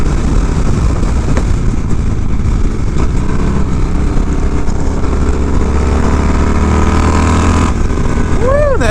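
A 1992 Harley FXR with a TBR exhaust roars past with a steady, loud, rumbling drone that holds throughout and is heavily buffeted by wind.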